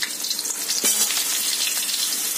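Potatoes drop into hot oil already seasoned with whole garam masala, cinnamon, cumin and chilli, raising a bright, hissing sizzle with a sharper burst partway through, close and steady with no voices.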